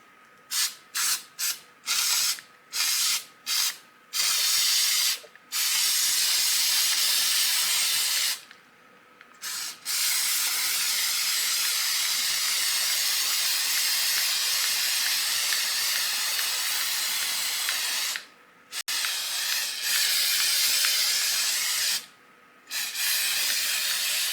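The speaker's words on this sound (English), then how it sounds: "A little test spray." Flex Seal aerosol sprays onto a doormat in loud, close hissing bursts, first a quick run of short test sprays, then long continuous passes broken by brief pauses, with no voices.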